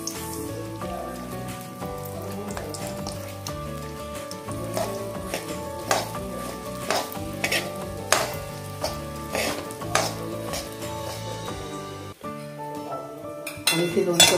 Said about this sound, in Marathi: आता यामध्ये आपण रवा खरपूस असा भाजून घेऊया.